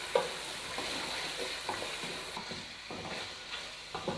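One kilo of chicken sizzling in hot oil in a cooking pot for pulao, a steady frying hiss broken by repeated scraping stirs of a spoon against the pot, close up and without speech.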